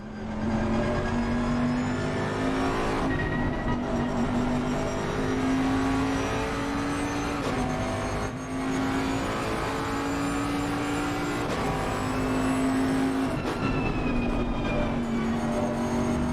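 Multiple race cars lapping Suzuka in a racing video game, with a loud, steady engine drone that rises and falls in pitch as the cars shift and accelerate, continuous throughout without talk.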